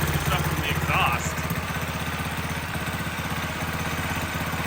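A small engine idles with a steady, rapid chugging putter, running continuously at a moderate level after starting.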